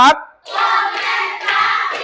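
A classroom group claps hands together in a set clap pattern, with a sharp opening clap, then a burst of rhythmic clapping that swells, dips briefly and rises again, all fairly close.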